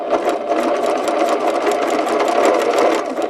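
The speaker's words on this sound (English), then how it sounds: "Once I've stitched over the seam" A sewing machine stitches steadily over an interlocking quilt seam, its rapid needle chatter running continuously and close up, with no talking.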